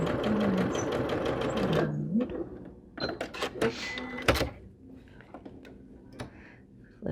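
A sewing machine stitches a quarter-inch seam on an Arizona quilt block, its steady rapid whirring running for about two seconds, then stopping, followed by a few short bursts and soft handling clicks.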